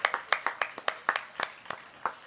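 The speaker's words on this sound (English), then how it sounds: "Let's give Matt Hagman a round of applause." Scattered clapping from a small audience greeting a speaker at a tech and music talk event, about a dozen distinct claps in an uneven rhythm, close and clear with gaps between them.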